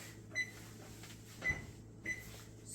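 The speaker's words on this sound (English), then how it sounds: "So I'm going to start the oven on 275." Oven being set to 275 for slow-cooking ribs: three short electronic beeps from keypad presses, spaced apart and quiet over a faint room hum.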